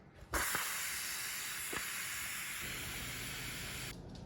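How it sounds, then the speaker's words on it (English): A pressure cooker releases its pressure after cooking beef short ribs, a loud, steady hiss of escaping steam that starts abruptly and runs for about four seconds before easing off. "now that it's done cooking, let's release the pressure"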